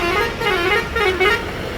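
A Sai Tanmay bus sounds its horn as it pulls away for Madgaon, two loud close honks over engine rumble.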